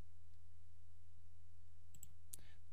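A computer mouse clicks twice in quick succession late in the stretch, small sharp ticks over a steady low hum, with a third faint click just after.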